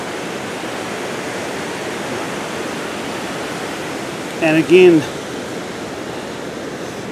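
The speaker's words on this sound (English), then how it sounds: "You'll hear the water is quite loud as you come up over the top of it." Loud, steady rush of milky glacial river water in the Hooker Valley below Mt Cook, New Zealand, feeding Mueller Lake, filling the whole stretch as continuous broadband roar, with a brief spoken phrase partway through.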